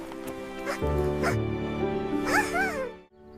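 A puppy gives a few short yips and barks, then a high rising whimper, close and clear against a quiet indoor room.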